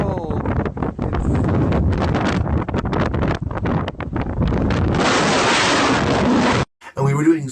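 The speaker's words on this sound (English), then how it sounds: "And it was very, very, very windy." Heavy wind roars and buffets the microphone on a steep, cold mountain in the United Kingdom, loud and continuous, gusting harder near the end before a brief drop-out.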